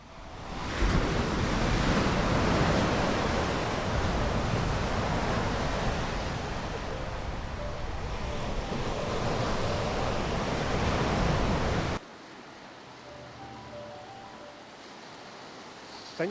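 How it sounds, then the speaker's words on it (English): Surf rolls and crashes continuously onto a beach for most of the stretch, loud and broad with wind on the microphone, then drops abruptly to a quieter wash near the end. "It's quite hard to tell with the waves crashing"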